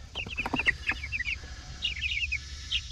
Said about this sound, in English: we got our summer batch of chicks.